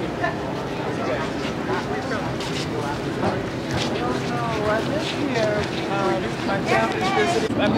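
Steady rumbling ferry engine and rushing water with wind noise, continuous and close, while people talk over it.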